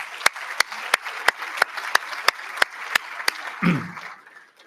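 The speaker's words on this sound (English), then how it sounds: "Let's give them all another round of applause." Applause honoring National Soccer Hall of Fame inductees at an induction ceremony, heard as a steady run of sharp, evenly spaced claps that sound fairly close, tapering off near the end.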